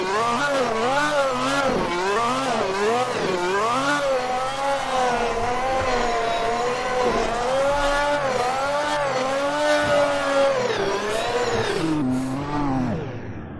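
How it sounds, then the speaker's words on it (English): Ferrari Formula 1 car spinning donuts on grass at the Mugello circuit in Tuscany, a loud, continuous high-revving engine whose pitch swells and dips with each rotation, with tyre scrub and sliding, close and sustained throughout. "I don't know why it's so difficult to like make donuts on grass."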